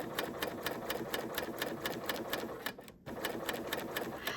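A sewing machine runs steadily, stitching a 1-inch hem with a 25mm hemmer foot, a rapid even needle rhythm up close that pauses briefly near the end before resuming.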